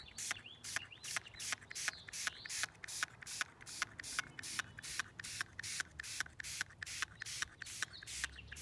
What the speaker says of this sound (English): Grab your spray bottle and start spraying your 3D map.